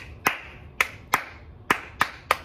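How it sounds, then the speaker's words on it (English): Hands clapping a rhythm, six sharp close claps in an uneven pattern, two pairs and spaced single claps, alone with no talk. "you're gonna be clapping that same part"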